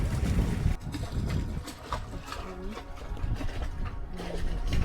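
A sailboat under both sails in about nine knots of wind, with steady rushing wind and water noise and gusty buffeting against the microphone throughout.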